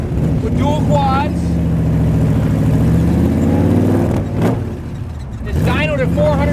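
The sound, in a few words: 1965 Shelby 427 Cobra continuation engine running, dual quads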